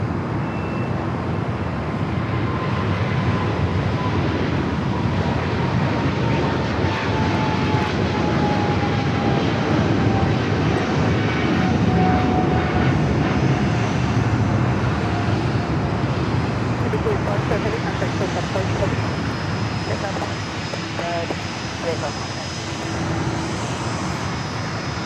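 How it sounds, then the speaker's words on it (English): British Airways Boeing 777-300ER on its takeoff roll at LAX, a loud continuous jet engine roar with a steady falling whine that builds and persists, while a voice talks over it. "Speedbird 777 at 300 ER heading back to London Heathrow."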